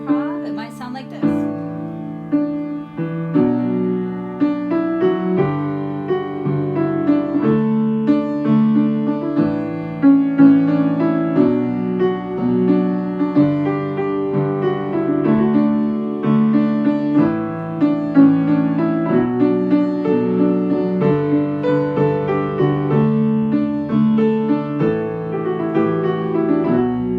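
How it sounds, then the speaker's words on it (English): Solo piano improvising on the chords of a song, a steady flowing stream of sustained chords and melody notes, close and clear throughout. "if you started out playing the song the regular way, and then you wanted to go off and do a little bit of improv"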